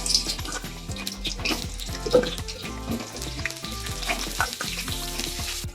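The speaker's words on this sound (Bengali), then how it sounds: "এগুলো আমি সর্ষের তেলে ভেজে নেব।" Potato pieces fry in hot mustard oil in a wok, a steady sizzle with bursts of crackle and occasional stirring, close and fairly loud.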